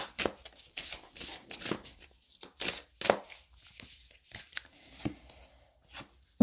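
Oracle cards being shuffled and laid out on a table, a close run of crisp flicking riffles and soft slaps, irregular and quick, with no talk.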